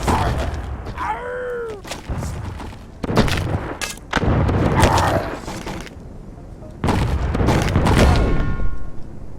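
Cannons firing in the battle game TABS, heavy booming blasts with rumbling tails arriving in bursts separated by short quieter gaps, loud and close, with a whooshing swoop early on.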